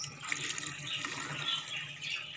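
Water pours into a pot of crushed tomatoes while cooking pork sinigang, a steady, soft rushing and splashing stream that continues evenly throughout with no talking.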